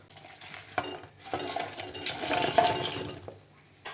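Pakoras are dropped and stirred into thick, simmering kadhi gravy in a pan, giving close, soft sloshing and spoon scraping with a couple of sharp clinks, alone without talk.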